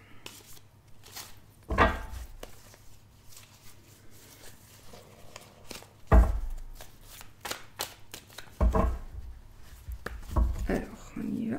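Tarot cards are shuffled and handled in irregular bursts of soft slapping and riffling, close by and fairly loud against quiet, with someone speaking French between the bursts.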